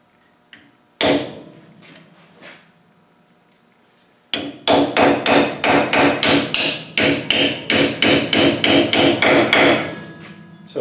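A dismantling tool is struck by a hammer to free a snapped bolt. A few isolated blows are followed by a long run of loud, evenly spaced metallic strikes up close.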